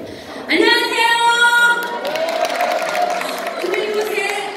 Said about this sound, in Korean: 박수 소리가 너무 좋은 것 같습니다